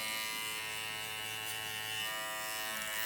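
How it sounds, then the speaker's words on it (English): Electric clippers buzz steadily and close up as a barber cuts hair, a continuous even hum with no speech over it. "you can actually hear the hair being cut"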